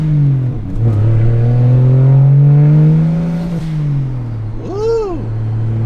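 BMW 335i with an N54 engine and a Doc Race DR700 single turbo kit driving at slow speed, its exhaust droning and rising steadily through revs, loud and close, then dipping before a short whooshing blip near the end.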